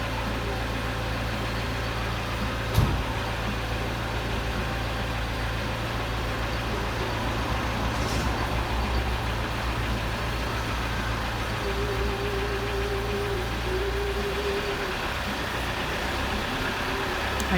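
A classic campervan under conversion idles for its MOT test, its engine giving a steady low rumble at moderate distance. There is one brief knock early on and no speech.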